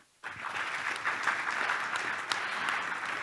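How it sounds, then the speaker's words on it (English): A round of applause from a conference audience thanking a panel on Indonesia's digital transformation; after a brief silence, dense clapping starts abruptly and holds steady throughout. "Let's please give a round of applause."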